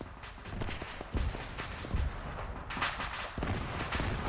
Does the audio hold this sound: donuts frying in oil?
no